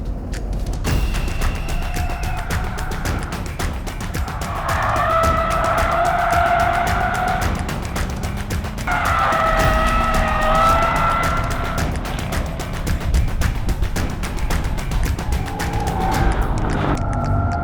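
A Jaguar F-Type SVR V8 slides sideways on a track, engine roaring steadily while tyres squeal in two long drawn-out wails, close and loud.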